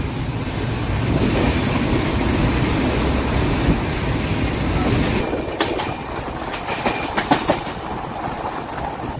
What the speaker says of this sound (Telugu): స్పీడ్ కూడా చాలా బాగా కొడుతున్నారండి. భలే వెళ్తుంది బండి, చాలా స్మూత్గా వెళ్తుంది